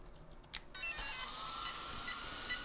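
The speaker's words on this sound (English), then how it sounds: "The sound you're hearing is the fans" Cooling fans whir on an electric RC car running on a 4-cell LiPo battery. A faint high whine starts after a short click and holds steady, with no one talking.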